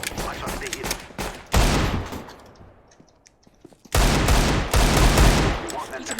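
Rapid gunfire in Counter-Strike: Global Offensive, two dense bursts of loud cracking shots separated by a brief lull with faint scattered pops.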